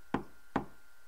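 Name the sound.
knock on a door in Steins;Gate video game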